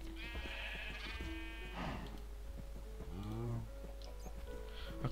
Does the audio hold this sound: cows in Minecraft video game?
yes